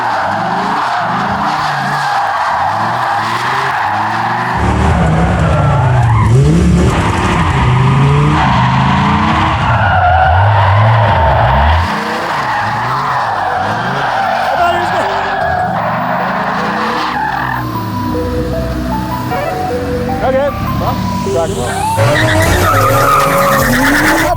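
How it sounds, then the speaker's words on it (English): Tires squeal and skid in repeated sweeping bursts as a car rips donuts on a no-prep tarmac strip, the engine revving loudly throughout with voices faintly mixed in. "You want to rip some donuts or something?"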